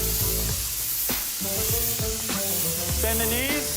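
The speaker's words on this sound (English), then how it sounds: "when you pull the trigger, Yep. you pull the first phase air and you pull it back more, then there's the spray, there's the paint that comes out" A spray paint gun coats a car in a car factory with a steady, close, broad hiss that continues throughout, with faint tonal hums and small fluctuations.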